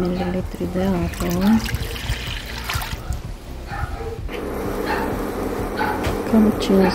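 Water is poured into a cooking pan while pork neck in tarragon-mustard sauce is being made, a close gurgling trickle with a voice talking over it.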